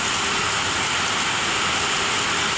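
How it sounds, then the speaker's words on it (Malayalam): Steady, heavy rain pours down in a dense, continuous hiss with no breaks, loud and close throughout. "ഇപ്പോഴും നല്ല മഴ പെയ്തുകൊണ്ടിരിക്കുകയാണ്"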